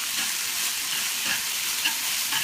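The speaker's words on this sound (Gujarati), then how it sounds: "નૂડલ્સને આપણે જરાક તળશું" Vegetable chow mein noodles stir-fry in a hot pan, with a continuous loud sizzle and brief scraping of stirring throughout.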